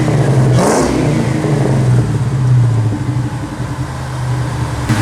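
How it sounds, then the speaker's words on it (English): A Kenne Bell supercharged 2001 Mustang GT with basic bolt-on exhaust revs on a dyno, giving a loud, steady engine drone that surges briefly near the start and then holds without any voices. "as you can tell from the exhaust note, it's not super rowdy."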